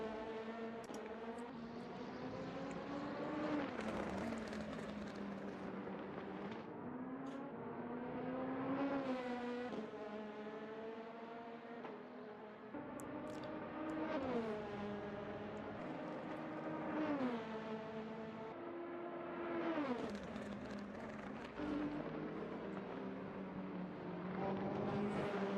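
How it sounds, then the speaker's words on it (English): LMP2 prototype race cars on the Hungaroring circuit during a pre-season race, engines droning loudly with repeated rising and falling pitch sweeps as cars accelerate and pass, continuous throughout with no talk. "As Noah maintains his racing line as Dante Spapen goes past. Getting slightly closer to Lance Simmons in that LMP2"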